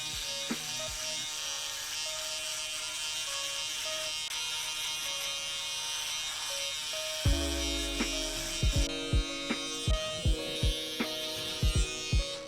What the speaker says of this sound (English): Foil shaver goes right underneath that